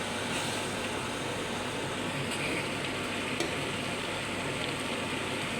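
Steady, dense sizzling of nasi goreng (Malay fried rice) in a hot pan, continuous and close, with faint scraping stirs and no voices.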